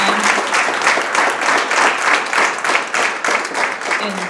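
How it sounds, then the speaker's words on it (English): An audience at a school Black History debate applauds the judges: steady, dense clapping that fills the whole stretch evenly, with no voices over it. "Let's give our judges a big round of applause."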